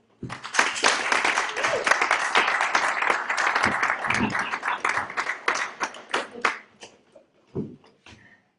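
Warm applause from a Toastmasters club audience welcoming speaker Robert, a dense burst of many hands clapping that thins out into a few scattered claps toward the end.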